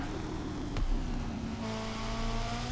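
A Lego Ferrari F40 in a racing video game, its engine droning steadily and then revving up into a rising, sustained whine near the end, loud and close with no talking.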